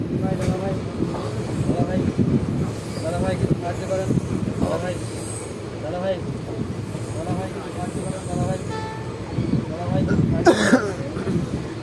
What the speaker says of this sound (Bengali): রানাঘাট ঢুকার আগে আমাদের ট্রেন এখন কার্ভ নিচ্ছে